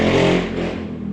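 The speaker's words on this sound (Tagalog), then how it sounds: "ingay naman ang motor na yan." A noisy motorcycle passes nearby, its engine roar loud at first and then fading quickly as it moves away.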